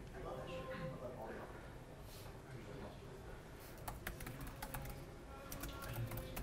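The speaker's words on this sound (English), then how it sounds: "How does the keyboard feel? Why don't you try typing something?" Quiet clicking keystrokes on a Razer keyboard of a Project Linda laptop dock, sparse at first and then in quick bursts, with people talking nearby.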